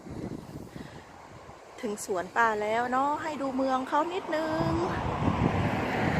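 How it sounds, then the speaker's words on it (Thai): Strong, blustery wind blows outdoors at a vegetable garden on a cold day, a steady broadband rush growing louder after the first couple of seconds, with someone talking over it. "นี่นะคะบรรยากาศลมแรงเวอร์จริงๆเลยค่ะ"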